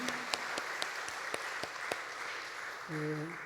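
Congregation clapping at a church worship service, a steady patter of applause in a reverberant hall with brief organ or music tones near the end, moderately quiet.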